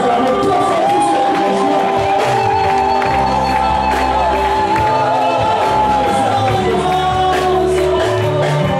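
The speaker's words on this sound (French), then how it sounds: "Nous acclamons tous ensemble." Congregation cheering together during a French-language church service, a loud, sustained mass of voices, shouts and whoops filling the room with no pauses.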